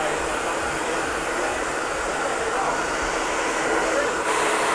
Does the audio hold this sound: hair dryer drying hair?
yes